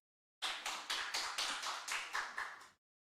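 Someone at a Korean church Sunday service claps about nine times in a steady rhythm, crisp and close, then stops, with no talk around the claps.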